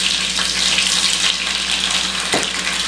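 Cider vinegar hits a hot pan of cooking garlic, giving a steady, loud hiss of sizzling liquid that holds evenly throughout, with a brief clatter near the end and no voices.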